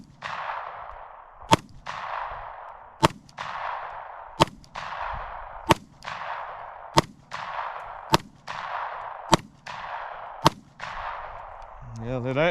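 A Taurus GC9 pistol fires cheap ammunition in about nine sharp, loud single shots at steady intervals of roughly a second and a half, each followed by a brief ringing decay outdoors.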